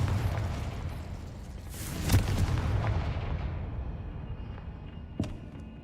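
A Confringo blasting spell goes off in Hogwarts Legacy, a loud booming blast with a sharp crack near the middle, then a rumbling tail and a second sharp hit near the end over steady game ambience.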